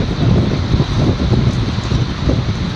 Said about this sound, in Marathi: थंड वारा